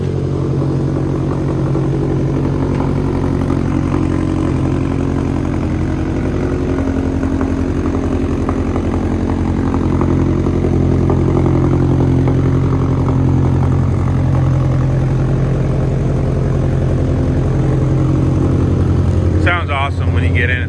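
Idling 2008 Subaru STI turbo engine, a steady deep burbling rumble heard up close and unchanging, with a brief clicking rattle near the end.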